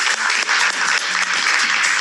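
A studio audience on a Macedonian TV quiz show breaks into loud, dense applause, a sustained wash of clapping throughout the brief moment.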